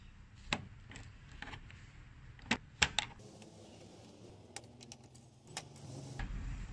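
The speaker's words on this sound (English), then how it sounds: "We'll start by removing these clips." Plastic trim clips being pried out of a Honda Accord's front end, a handful of sharp, separate clicks and snaps close to the microphone, spaced unevenly over a few seconds against a quiet, faintly rustling background with no talk.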